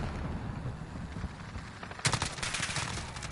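AK rifle fire in Call of Duty Modern Warfare: a quiet game background gives way to a sudden loud burst of rapid automatic shots about two-thirds of the way through, continuing in quick cracks.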